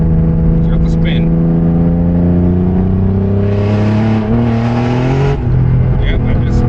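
A turbocharged BMW E36 that runs lean, with the engine loud and near as it revs and pulls in rising tones under hard acceleration. A rushing burst in the middle suggests the wheels spinning.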